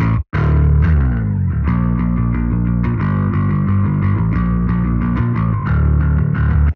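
Warm, heavily distorted DI electric guitar track from a power metal production, shaped with a dynamic low-end EQ cut, playing dense sustained chords and riffs continuously and loudly after a brief opening gap.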